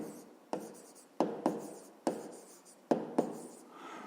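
Pen or pencil strokes scratch across paper in quick, separate bursts, about seven of them, close and fairly faint, as a maths exercise for a fifth-grade lesson is written out.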